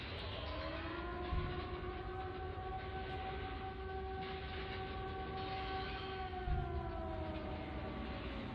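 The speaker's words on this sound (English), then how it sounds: "The sirens, I can hear." Wailing sirens from the Silent Hill 2 Remake video game, long rising and falling tones sustained over a dense rumbling background, alone without speech.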